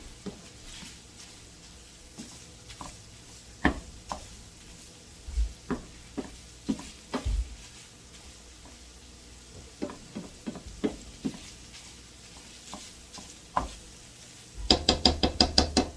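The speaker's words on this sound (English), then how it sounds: "So we're breaking this sausage up." Breakfast sausage sizzles steadily in a frying pan while it is broken up, with repeated scraping knocks of a utensil against the pan and a louder burst of sizzling near the end.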